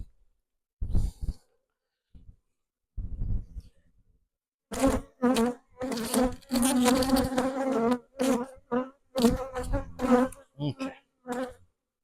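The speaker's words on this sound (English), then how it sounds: "The new bees in there done got them a little bit stirred up" Stirred-up honey bees buzzing at an open hive, loud close bursts of droning hum that come and go in irregular waves, with a brief spoken word early on.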